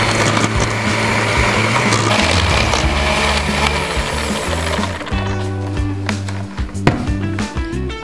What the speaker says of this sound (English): Using a hand mixer,